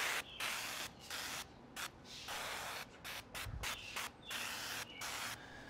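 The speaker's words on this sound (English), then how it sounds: "we're gonna use duck fat spray, which is one of my favorite cooking sprays." Duck fat cooking spray misted onto a ham from an aerosol can in repeated short hissing bursts of about a second each, close and fairly quiet, separated by brief pauses.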